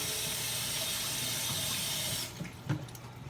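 Tap water running steadily into a sink while hands are washed, then shut off, followed by a few soft clunks and splashes close by.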